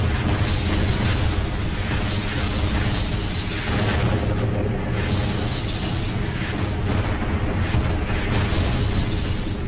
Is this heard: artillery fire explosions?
yes